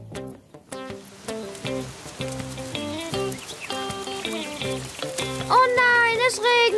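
Cartoon rain falls during a picnic in a German children's cartoon, a steady, soft pattering hiss running beneath bright music that swells toward the end.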